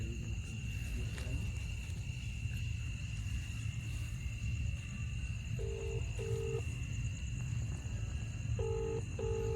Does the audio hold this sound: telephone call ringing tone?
yes